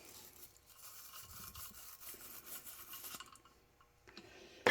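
Idle mixture screws from a 1965 Chevelle two-jet carburetor being scrubbed by hand while cleaned with carb cleaner, giving steady close rasping strokes that stop briefly before a sharp final sound.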